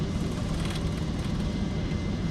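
Boeing 777 engines roar at takeoff thrust as heard from the cockpit, a loud, steady, broad rumble filling the space without letup and with no speech over it.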